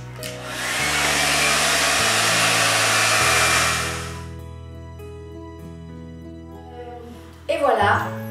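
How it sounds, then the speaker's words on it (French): A hair dryer blows with a steady, loud whooshing hum for several seconds, then switches off and fades, leaving faint background sound and a brief voice. "C'est le moment du sèche-cheveux."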